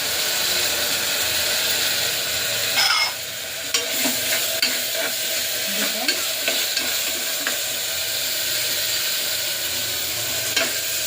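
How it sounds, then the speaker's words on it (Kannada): Moong dal tips into a hot, sizzling tempering and gets stirred, giving a steady frying hiss with scraping spoon strokes and a few sharp clinks against the pan. "ನಾನು ಹೆಸರುಬೇಳೆಯನ್ನು ಅದಕ್ಕೆ ಸೇರಿಸ್ತಾ ಇದ್ದೀನಿ"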